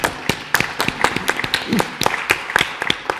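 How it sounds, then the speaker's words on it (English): An audience gives a round of applause to a panel of speakers at a financial advisors' event, with crisp, scattered claps from a modest crowd and some faint voices underneath. "please give a round of applause to our panelists"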